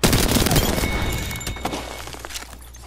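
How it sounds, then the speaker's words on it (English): Grenade blast in a shooter game, a loud bursting explosion at the start that crackles and scatters into rattling debris and fades over a couple of seconds. "Tossing a grenade."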